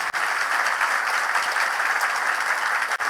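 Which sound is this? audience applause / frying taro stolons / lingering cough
audience applause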